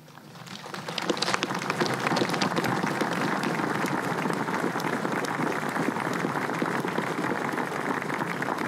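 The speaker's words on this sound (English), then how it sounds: "And applause from the audience, from the congregation, for Taoiseach Enda Kenny." Congregation at a state funeral applauding, a dense sustained patter of many hands that swells in over the first second and holds steady and loud throughout.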